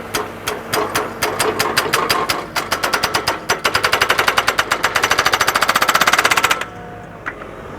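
A Geoprobe HPT rig's percussion hammer pounds probe rods into the ground in a loud, rapid mechanical rattle that speeds into a steady machine-gun-like burst for several seconds, then cuts off abruptly, leaving a quiet engine idle.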